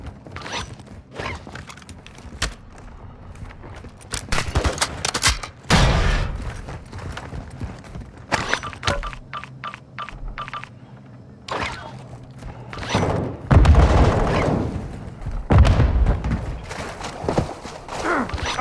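Gunfire in a shooter video game: irregular bursts of sharp shots and heavy thuds, some close and loud, others in rapid clusters, with no talk.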